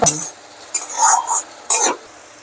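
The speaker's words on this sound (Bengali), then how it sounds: "এটাকে দিয়ে ভালো করে কষাতে হবে" Tomato paste with spices is stirred in a pan in three short bursts of scraping and clinking, separated by near silence, with a faint sizzle under them.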